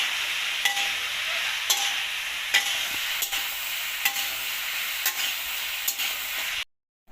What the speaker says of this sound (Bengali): চাল ভাজা দেখেন, মা চাল ভাজতেছে, চালের গুঁড়ো হবে